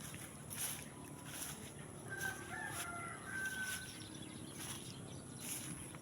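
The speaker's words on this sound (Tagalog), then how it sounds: "Daming mga ibon no." Many birds call faintly outdoors, including chicken clucks and a distant rooster crowing, with brief chirps scattered over a quiet background.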